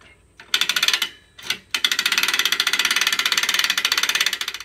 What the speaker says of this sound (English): Now as I turn that winch, this cable as it rolls on should hold that down.